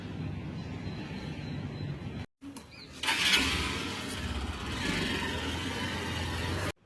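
A motorcycle engine rumbles to life after a short pause, settling into a steady close running drone that lasts until a sudden cutoff at the end.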